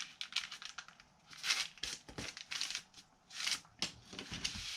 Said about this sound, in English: I am going to just take it and fold it in half.